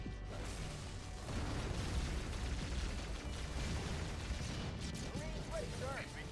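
Carpet-bombing explosions in a strategy video game, a dense, continuous rumble of overlapping blasts and low booms filling the mix at steady loudness, with a few higher whistling tones near the end.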